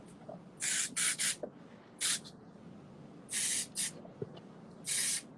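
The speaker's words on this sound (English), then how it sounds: "I'm using a little bit of a flexible hold hairspray here" Flexible-hold hairspray misted onto hair for an up-do, in six short hissing bursts of varying length, close and fairly loud, with quiet pauses between them.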